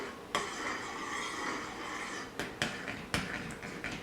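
Lye being stirred into oil for hot process soap, with close, sharp clinks and knocks of a utensil against the container over a faint steady hiss.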